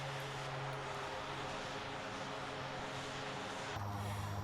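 Steady drone of the twin turboprop engines on a simulated Dash 8-100 in flight, a continuous hum with a low tonal pitch that drops slightly in the last moment as the throttle comes back, no voices.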